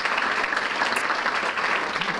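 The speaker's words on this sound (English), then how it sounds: "So just a round of applause for everyone that's here." A crowd applauding at a high school academic banquet: dense, continuous clapping at an even level from start to finish.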